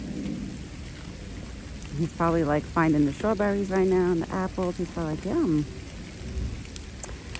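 Steady rain falls outdoors on a cold, rainy evening, a continuous hiss under a voice speaking throughout.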